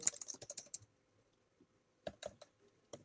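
Quick bursts of keystrokes on a computer keyboard, close and fairly faint, with a pause in the middle before the rapid clicking resumes, no voice over it.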